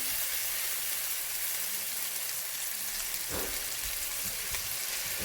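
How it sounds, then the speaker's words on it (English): Onions sauté in a pan with a dense, steady sizzle and crackle, close and even throughout, with a couple of soft knocks from the utensil. "So onion, we're gonna saute until they get like a golden brown"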